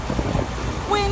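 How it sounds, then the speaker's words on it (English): Outdoors, wind buffets the microphone in a low, rumbling roar with gusty fluctuations, and a brief voice cuts in near the end. "Windy!"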